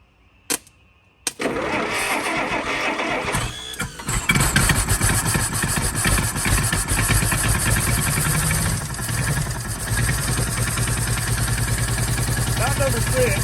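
Engine of a 1951 Willys jeep truck cranks and catches, then runs roughly and loudly at close range, spitting back through the intake, with voices talking over the running engine.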